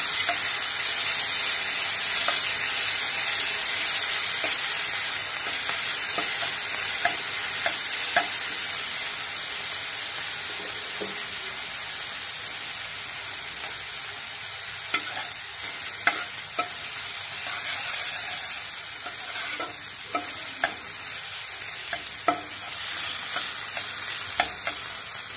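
Onion and tomato paste frying in hot oil in a kadai for bitter gourd rezala, a steady close sizzle and hiss with occasional stirring scrapes and crackles running throughout, no speech.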